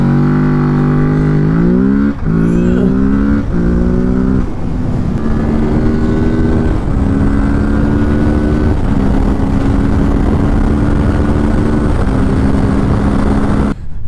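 A 2020 Kawasaki Z650 with a 649 cc parallel-twin engine, heard running close up and alone, revving in a series of stepped climbs and drops, then settling into a steady, throaty drone.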